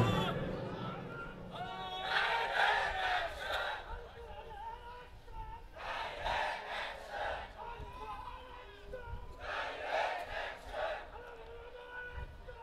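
A crowd at an Islamic sermon gathering answers a takbir call, with three loud bursts of many voices chanting together in unison, separated by quieter murmuring gaps, heard from some distance in a large open space.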